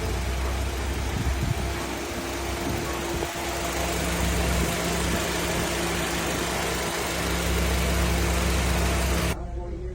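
A 2009 Honda City sits idling in Laguna, its engine giving a steady, close low hum with a constant drone and faint mechanical vibration, unbroken until the clip's very end.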